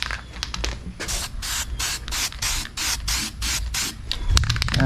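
Seymour's Industrial Strength Flat Black Enamel spray paint hisses onto a test strip in a quick series of short, close bursts with brief gaps between them, followed by a low bump near the end.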